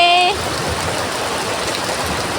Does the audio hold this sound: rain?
yes